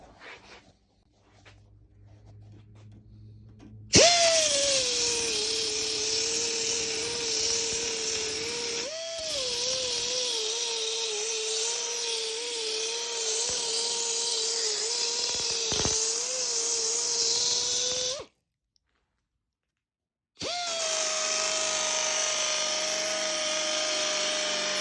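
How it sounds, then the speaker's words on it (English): A belt sander smooths the edge of a cut opening in a Ford Transit Custom van panel for a bonded side window, running loud and steady with a brief pause before starting again. "go along with the edge with my belt sander and make it nice and neat"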